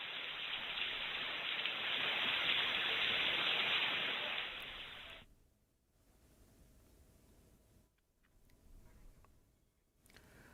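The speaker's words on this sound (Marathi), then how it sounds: "पुणे शहरामध्ये जोरदार पावसाला सुरुवात झाली आहे." Steady roar of heavy rain in Pune for about five seconds, then it cuts to quieter, muffled background noise with faint shifting sounds.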